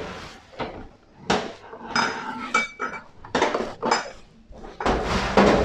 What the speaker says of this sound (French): on commence par la petite vaisselle, tout ce qui est plat, seau, bac, les canules,